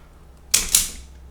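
Two quick sharp snaps close together, like cutting and stripping electrical wire while wiring an old-work electrical box, close and alone in a quiet room.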